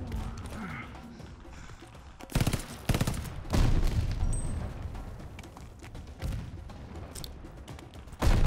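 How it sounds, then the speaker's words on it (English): Grenade explosions in Call of Duty Vanguard at the Battle of El Alamein: several heavy booms burst out one after another amid scattered gunfire and clanking battlefield noise, loud and close in the game mix. "They're still throwing grenades at me."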